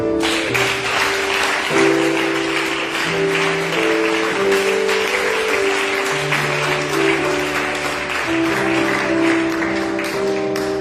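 A church congregation applauds and cheers during a celebration service, a steady dense clapping that fills the whole stretch over sustained keyboard or organ chords.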